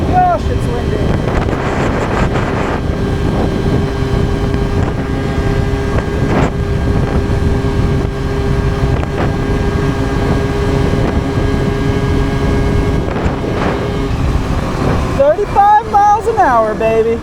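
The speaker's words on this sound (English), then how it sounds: "Oh my gosh, it's windy." Strong headwind roars and buffets the microphone continuously over the droning engine of a 2001 Yamaha Zuma scooter, with a person speaking toward the end.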